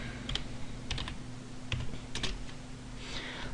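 Someone types on a computer keyboard while setting up a phpBB forum, with quiet clusters of clicky keystrokes in short bursts separated by brief pauses, close and alone.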